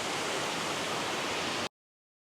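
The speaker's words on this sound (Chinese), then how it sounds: "这个瀑布它的落差呢，跟它的水量比三叠泉要大" A large single-drop waterfall at Lushan gives a steady, dense, hissing roar of falling water that holds evenly and then cuts off abruptly into silence, with no voices.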